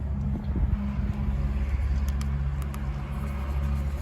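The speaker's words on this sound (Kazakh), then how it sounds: "Көлік қосып тұр, қызып тұр. Бір мың оборотта." A car engine idles steadily at about 1000 rpm while warming up, a low continuous rumble with faint wind noise, close and unbroken with no talking.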